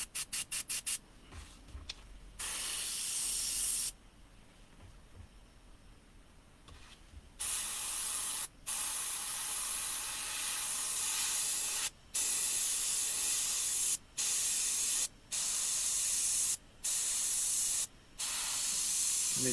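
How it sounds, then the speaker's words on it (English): An Iwata airbrush sprays water-based paint onto an RC car body shell at low pressure, with repeated loud hissing bursts of several seconds each, separated by short pauses. "I'm getting a terrible spray"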